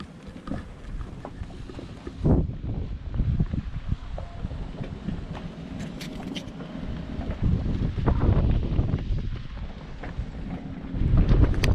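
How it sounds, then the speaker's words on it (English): Wind gusts across a sailboat in the Bahamas, rumbling and buffeting the microphone, with occasional knocks and creaks underneath and no talking. "It's a bit breezy, so it'll be a bit choppy"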